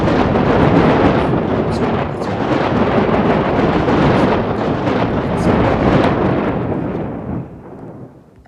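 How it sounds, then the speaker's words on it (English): Lightning strike and thunder in the video game WorldBox: a loud, sustained rumbling roar that fills the whole stretch and fades out near the end, with no talk. "So yeah, that's lightning for you."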